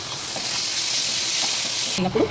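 Yogurt poured into a hot pan while cooking chukkakura (sorrel leaves), a steady loud sizzling hiss that swells throughout and breaks off near the end into soft stirring clatter.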